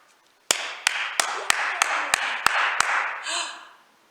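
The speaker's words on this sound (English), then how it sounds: "I bet we can make them clap" A group of children clapping hands in a sea-themed dance session, eight sharp evenly spaced claps over a bright sustained wash of voices, with a louder burst of sound at the end.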